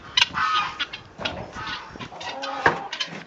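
Silkie chickens clucking and squawking nearby in short, irregular bursts, with several birds calling over one another, outdoors on a cold, windy, muddy day.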